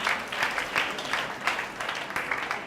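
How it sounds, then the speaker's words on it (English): Sustained applause rises from an audience at the Young and Pure Pink Tour in Ajegunle, a dense wash of clapping that continues evenly at moderate loudness. "Clap for her."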